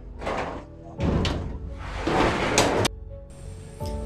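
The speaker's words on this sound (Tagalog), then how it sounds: "Sarado muna natin itong pinto." A door at a corn farm in San Manuel, Tarlac is closed, with several scraping, sliding bursts and a final sharp knock, close and fairly loud.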